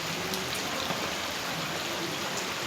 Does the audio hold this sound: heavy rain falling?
yes